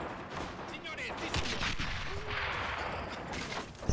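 Sniper shots and scattered gunfire crackle in a World War II strategy game 1v1 match, several distant reports popping over a dense battle din, with a commentator talking throughout.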